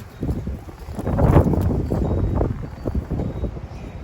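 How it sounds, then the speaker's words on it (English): Wind blowing outdoors by a garden fence, loud rough gusts buffeting close to the microphone and rising and falling over a few seconds. "look at that wind"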